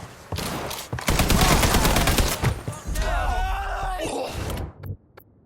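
Loud sustained gunfire in the Mafia III: Definitive Edition final mission, with dense overlapping bursts and booms filling the scene, a grenade thrown into the fight, and gruff groaning voices and shouts mixed into the chaotic battle noise.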